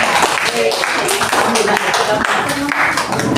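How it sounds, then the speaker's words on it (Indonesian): Classroom students clapping for their classmates, a short burst of applause heard over children's voices and chatter throughout. "kasih tepuk tangan untuk kawan-kawan"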